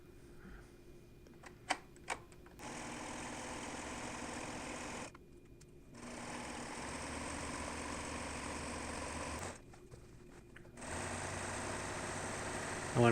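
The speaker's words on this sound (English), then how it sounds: "this was just a standard sewing machine" A standard household sewing machine stitches a seam on a canvas bag. Its steady motor whir runs in three long passes with brief stops between them, fairly quiet and close.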